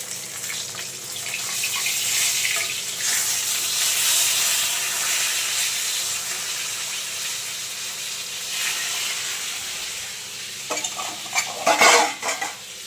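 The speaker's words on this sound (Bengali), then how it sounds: "মাছ ভাজছি" Fish fries in a pan, a steady close sizzle and bubbling hiss that runs on for several seconds, with a few louder clattering stirs near the end and no one speaking.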